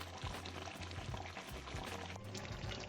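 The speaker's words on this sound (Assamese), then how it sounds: "এয়া মই অলপ পানী ঢালিছোঁ।" Water is poured into a pot of simmering butter chicken. A short, close splashing pour runs over the low bubbling and sizzle of the cooking meat.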